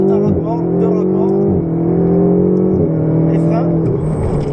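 A Ferrari 488 GTB accelerates hard on a race circuit, its engine note climbing in loud rising sweeps broken by quick upshifts, close and dominant throughout.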